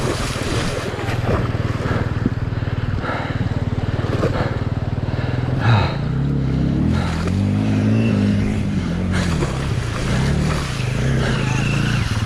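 Dirt motorcycle crossing Big Smoky creek on an Idaho backcountry tour, rushing water splashing and churning with wind buffeting the microphone, a loud close engine rumble rising and falling under it, no talking.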